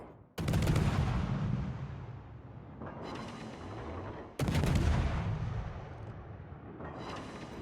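Warship guns fire at the French cruiser Cherbourg in World of Warships, heard as two heavy, close salvos, each a sharp blast followed by a long rumbling roll that fades before the next volley. Nobody speaks.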